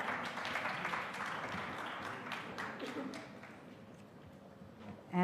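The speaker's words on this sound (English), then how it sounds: "A huge round of cheer for all our presenters here." Applause for presenters at a women's felicitation awards ceremony, many hands clapping steadily at first, then thinning and fading toward the end.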